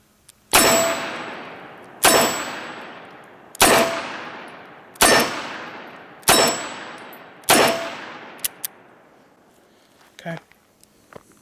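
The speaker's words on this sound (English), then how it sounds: "These 38 specials are very easy to shoot out of this" A Dan Wesson 715 revolver fires six .38 Special rounds at steel plates, evenly spaced sharp loud shots about every second and a half, each followed by a ringing decay, then a few faint clanks and a brief voice.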